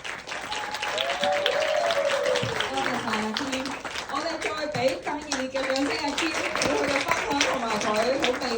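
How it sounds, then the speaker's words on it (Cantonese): An audience at a live concert applauds at the close of a song, with dense, sustained clapping across the whole stretch and voices heard over it. "我哋再俾更熱烈嘅掌聲。"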